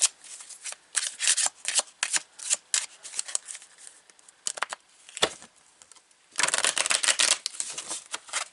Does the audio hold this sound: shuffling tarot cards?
yes